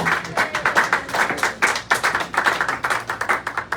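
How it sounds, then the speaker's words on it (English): Rhythmic clapping from a comedy show audience applauding comedian Dan Tanner, fairly loud and close, with an uneven pulsing pattern throughout. "one more round of applause for Dan Tanner"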